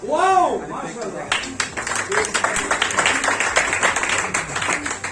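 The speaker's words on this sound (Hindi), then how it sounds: "बहादुर भाई के लिए ताली हो जाए।" An audience at a DXN agent recognition event in Sharjah breaks into dense, continuous clapping for an honoree, filling the room right after a brief voice at the start.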